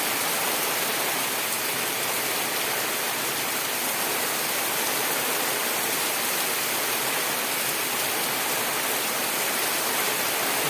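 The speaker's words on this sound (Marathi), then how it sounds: "खूप जोरात अचानक पाऊस आलेला आहे" Heavy, sudden rain pouring down steadily outdoors, a dense continuous roar of water with no pauses, loud and close throughout.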